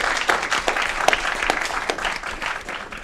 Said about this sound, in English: Let's give her a round of applause as well.